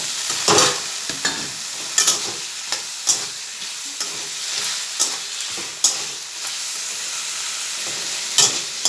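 Hilsa fish head going into a hot frying pan for a greens dish, with a steady sizzle broken by repeated scraping stir strokes at roughly one-second intervals, close and alone without talk.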